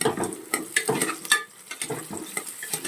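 Sliced green chillies sizzle as they fry in a pan for vegetable rice bath, with repeated stirring scrapes and clinks of a utensil against the pan in an irregular rhythm, close and moderately loud.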